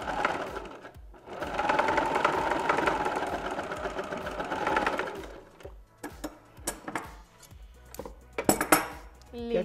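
A sewing machine runs steadily for several seconds, sewing a second reinforcing stitch along the edge of a two-piece women's swimsuit crotch, then gives way to scattered clicks and handling knocks.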